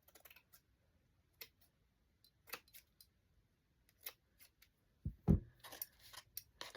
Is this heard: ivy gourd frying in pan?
no